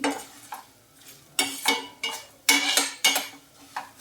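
Green chilies stir-fried in a pan for a tangy citron pulihora, heard as bursts of metal spatula scraping and clanking against the pan at an irregular pace, with a faint sizzle underneath and no talk.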